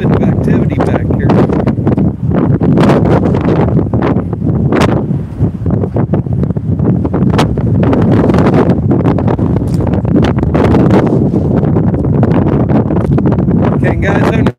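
Strong wind roars across an open outdoor space, a loud continuous buffeting on the microphone with gusty bursts throughout, while people talk over it.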